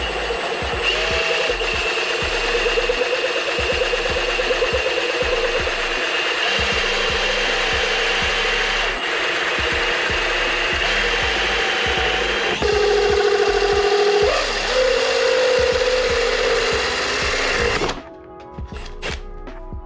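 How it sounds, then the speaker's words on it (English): A power drill whirs steadily for about eighteen seconds while drilling into plastic for snorkel risers on a 2023 Can-Am Outlander 850 XMR, pitch shifting slightly as it grinds, then cuts off, leaving quieter clicking handling noises. "we're gonna go ahead and put the drill bit of the drill into there"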